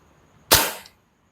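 A single sharp, loud crack comes from an Umarex/KSC HK USP.45 Match gas blowback airsoft pistol. The report is close and decays quickly, with silence before and after.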